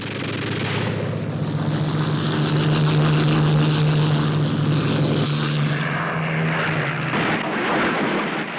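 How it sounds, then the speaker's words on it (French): Allied fighter planes, Spitfires and Thunderbolts, scrambling to take off in a hurry: a loud, steady propeller engine drone with a sustained low hum that swells slightly and persists throughout. "Les pilotes alliés qui fêtaient le nouvel an décollent en catastrophe."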